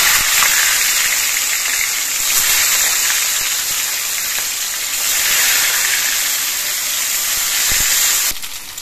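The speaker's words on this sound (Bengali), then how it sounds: "এবার তেলের মধ্যে দিয়ে মাছগুলো ভেজে নেব।" Katla fish frying in hot mustard oil in a wok makes a loud, continuous hissing sizzle that swells and eases slightly and fades near the end, with no talking.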